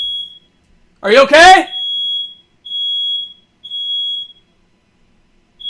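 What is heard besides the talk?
smoke alarm beeping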